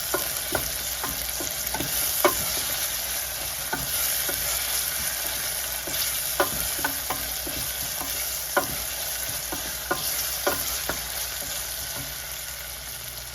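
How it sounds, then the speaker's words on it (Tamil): Fennel and fenugreek seeds sizzle while tempering in hot oil, a steady close frying hiss broken by sharp clicks and taps of a spoon stirring the pan, with no talking. "பெருஞ்சீரகம், வெந்தயம் இதெல்லாம் நல்லா தாளித்து விடட்டும்."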